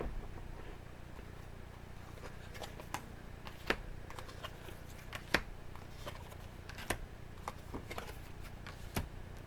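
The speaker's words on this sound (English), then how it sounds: "I'm going to grab some of my other cards here." Tarot cards being handled during a reading: soft shuffling and slapping card sounds with scattered light taps and clicks, fairly quiet against a steady low room hiss, with no talking.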